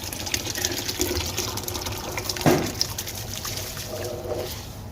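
Sella rice pours into a pot of boiling water flavored with cardamom pods, making a quiet, continuous watery rustle and bubbling with a brief louder splash midway and no voices.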